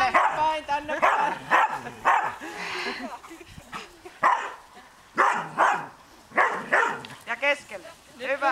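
A dog barks and yips in short bursts during sheepdog herding training, mixed in with a handler's spoken commands that run throughout.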